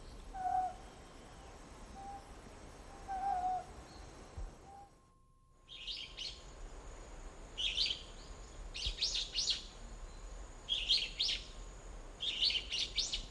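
Short bursts of high, buzzy Lanyu scops owl calls repeat in clusters after a brief pause, standing out clearly over a low background hum, with faint earlier notes.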